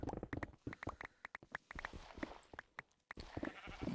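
A Minecraft cow lowing in a survival game world, heard alone as short bleating calls repeated several times over a few seconds among scattered clicks and thumps, with no talk.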